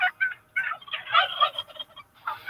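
Heritage breed turkeys on a farm gobble in several loud, close bursts, with short gaps between the rattling calls.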